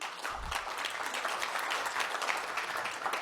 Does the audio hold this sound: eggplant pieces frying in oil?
no